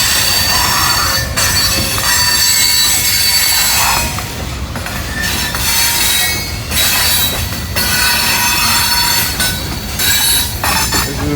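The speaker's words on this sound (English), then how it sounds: "This is about the only train you're going to catch in the daytime on this line." A loud stone train from a quarry in Melvin, Ohio rolls past close by, heavy rumble with metallic wheel squeals and clanking cars, continuous throughout with no voices.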